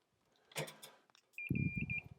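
A multimeter's continuity beeper sounds a short series of high, thin tones while probing a Ms. Pac-Man arcade board, following a brief handling clatter.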